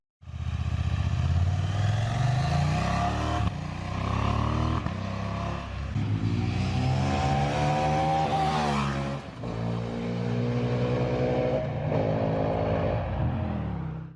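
A KTM 790 Adventure motorcycle ridden continuously, its engine droning loud and close as it revs up through rising pitches, with brief dips at gear changes and renewed acceleration.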